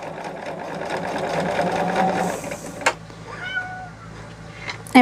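A domestic cat meows over the steady whir of a running sewing machine in a quilting room; the machine stops and a couple of short meows follow in the quiet.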